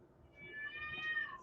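Cats fighting indoors let out a rising, drawn-out yowling meow that swells in loudness, heard from a little distance against a quiet room with no talking.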